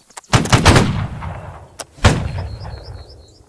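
A firing rank lets off a ragged volley of loud gunshots, then a lone shot follows a moment later and another loud blast rings out, each trailing into a short echo.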